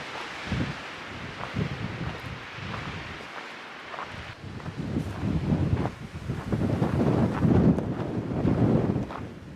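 Gusty wind buffets the microphone on an exposed hilltop along the Arizona Trail, a loud rumbling roar that rises and falls in waves and builds stronger toward the end.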